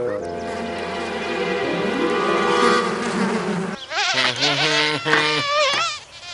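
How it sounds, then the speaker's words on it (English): A dense, droning buzz of insects swells loudly, then gives way to wavering, whiny tones like bees circling close by. "Louie, what you got there? Bees"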